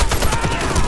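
Automatic weapon fire in the shooter game Warface: a loud, close stream of rapid bursts rattling on without a break for about a second.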